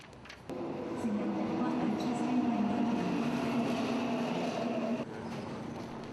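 A subway train runs with a continuous loud rumble and tonal hum of wheels and motors, heard from inside the carriage. The level dips slightly near the end.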